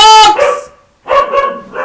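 Dogs barking loudly and close by, a rapid run of harsh barks with yelps, a brief pause, then a second burst of barking.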